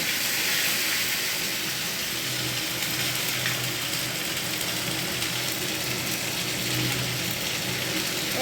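Tempering hits the oil of a vegetable curry with a loud, steady sizzle and hiss that carries evenly from start to finish, close up and with no talk.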